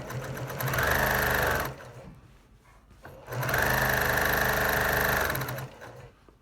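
A sewing machine runs loud and close while stitching t-shirt quilt rows together, two steady whirring bursts of about two seconds each separated by a short quiet pause.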